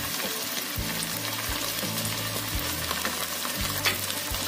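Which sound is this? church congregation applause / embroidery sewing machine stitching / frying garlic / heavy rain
frying garlic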